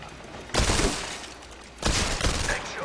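Two bursts of rapid gunfire from a PlayStation VR shooting game, each a dense fusillade lasting about a third of a second, loud and close, separated by a quieter stretch of background game noise.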